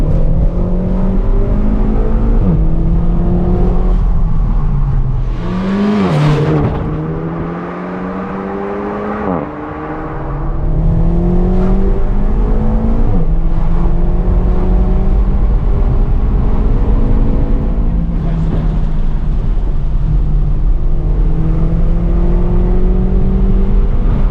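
A tuned Renault Megane 4 RS Trophy with remap and upgraded parts accelerates in race mode, engine roaring loud from inside the cabin through rising gear pulls, with a brief lift and burbling dip midway before pulling hard again.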